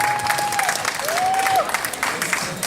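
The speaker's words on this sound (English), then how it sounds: "please give them a round of applause for their wonderful work for fall 2013" Applause for students at a Dharma and Yoga youth fest in Santa Clara, a steady wash of clapping under a faint tonal whistle or feedback squeal.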